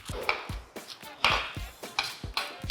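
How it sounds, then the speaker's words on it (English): A knife chops crispy bacon on a board in a steady run of about ten sharp, close thuds with crisp crackle, a faint voice underneath. "All I want to do now is to just kind of chop this crispy bacon up"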